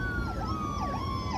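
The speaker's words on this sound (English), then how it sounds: "How about that? More ambulances." An ambulance siren wails in a rising and falling pattern over steady low traffic rumble, fairly distant and continuous, with no talk.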